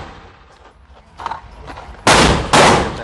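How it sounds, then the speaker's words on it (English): Two loud, close pistol shots fired at a range with Blazer 115 grain ammunition, about half a second apart, each a sharp crack with a short echo, after a quieter stretch of faint handling noise. "I'm shooting a blazer 115 grain to start."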